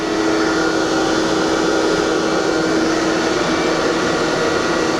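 A Landis 3R universal cylindrical grinder runs with a steady, loud broadband whir and a constant tonal hum, unbroken and close for the whole stretch without any talk.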